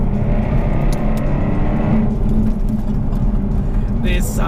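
Jaguar F-Type R exhaust droning loud and close at steady revs, a deep continuous roar that swells slightly then eases, with a brief higher whoosh near the end.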